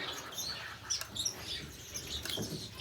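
Small, high chirps from baby society finch and shafttail finch chicks, repeated in quick soft bursts at close range over a quiet background.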